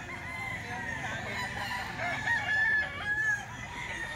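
A three-year-old lemon sweater gamecock crows nearby, giving a clear drawn-out call over low background noise and faint chatter.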